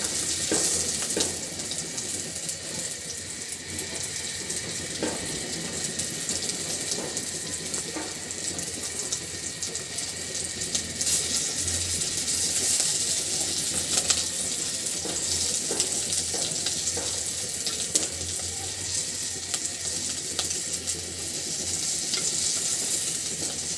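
Rui fish fritters, made from fish ground on a stone slab, fry in a pan with a steady, close sizzle and crackle. The sound runs continuously with light scraping and stirring noises and no talking.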